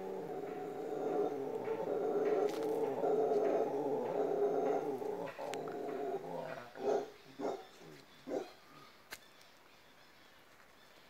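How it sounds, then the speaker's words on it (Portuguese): Howler monkeys calling in a natural setting, a deep droning roar rising and falling from a distance, fading into a few separate grunting bursts at the end. "ao som do guariba, o macaco guariba."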